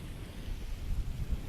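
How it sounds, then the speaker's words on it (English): Strong wind at the seaside at Mission Bay, New Zealand, blustering steadily against the microphone with a deep, rumbling low roar and gusty surges, close and continuous, with no voices. "because it's really windy"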